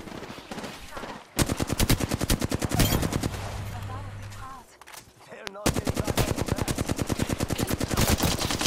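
Rapid automatic weapon fire in Apex Legends, loud and close, comes in long sustained bursts with a brief pause midway, its sharp regular cracks running almost continuously from start to finish.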